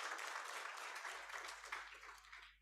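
An audience at an Africa Industrialisation Day commemoration breaks into loud, sustained applause, a dense wash of clapping from many hands that fades slightly toward the end, with no voices over it.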